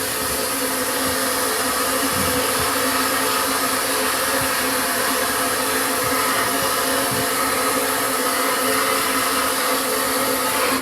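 A vapor blasting machine cleans rusty bolts and other VW Karmann Ghia restoration parts, giving a loud, steady hiss and rush of blasting air that runs unbroken and close for the whole stretch, with no talking.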